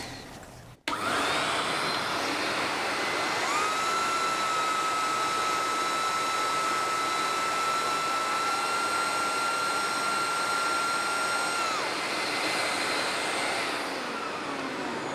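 A Camvac dust extractor runs with two motors on, a steady loud whine holding a constant high tone for most of the stretch, starting abruptly after a short gap and continuing unbroken.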